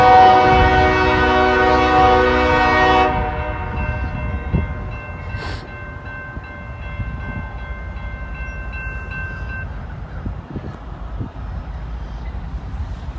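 The Connersville train passing on its line: a loud, sustained chord of horn blasts for about three seconds, then fading rumble and rolling rail noise with a faint lingering tone as it goes by.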